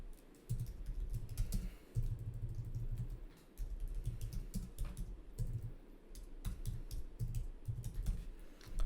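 Quiet, close tapping on a computer keyboard runs in irregular bursts of rapid clicks separated by brief pauses, with no talking.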